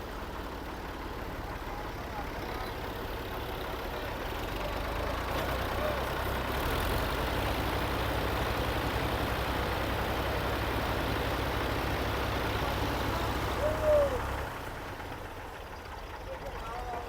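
Several tractor engines straining to pull a stuck loaded trolley, a low steady rumbling drone that holds for many seconds with a slight rise in the middle, heard at moderate distance.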